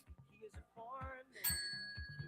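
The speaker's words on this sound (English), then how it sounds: "Couldn't find my bell fast enough." A bicycle bell rings once with a bright, lingering chime in a morning show studio, sounding partway through and trailing off under ongoing talk and low chatter from the hosts.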